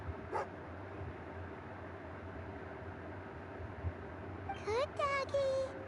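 A dog in the Genshin Impact video game gives a couple of short whimpers and yips near the end, preceded by one brief cry at the start, over a steady game background hum.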